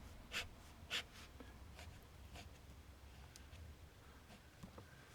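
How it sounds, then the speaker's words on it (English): A fountain pen nib scratches across toothy paper in a few short, crisp strokes, two of them sharper and louder, over a quiet background with no talking. "Now you probably heard there the sound of the nib floating over the paper."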